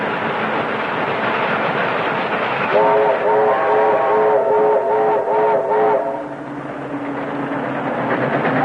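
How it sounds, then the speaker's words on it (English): A steam-era train from a 1934 film serial rumbles past on the railway at close range, its loud steady roar joined midway by a sustained chord-like whistle blast that fades as the train moves on, with no talk. "Canfield beats that train to crossing"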